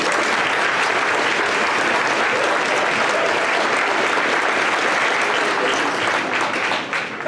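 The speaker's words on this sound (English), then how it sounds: "How about a big round of applause for these people?" A crowd at a Hawaii 2023 parent meeting applauds, a loud, continuous wash of many hands clapping that stays strong throughout and eases only at the very end.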